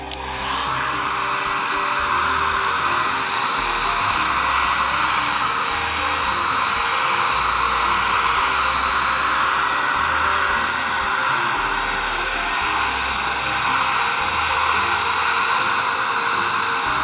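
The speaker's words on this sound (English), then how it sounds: "you want to keep that hair dryer on there" A hair dryer blows steadily and loudly at close range, heating a clear bra protective film on a 12-year-old car so it can be peeled off, a continuous whooshing motor hum with no talk.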